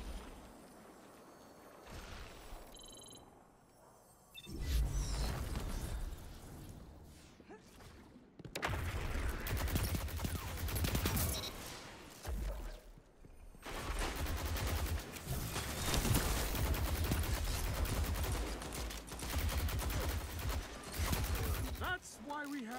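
Automatic rifle fire in Destiny 2, a ranked solo-queue match: dense bursts of rapid gunshots with thuds and whooshes, loud and close, broken by short lulls.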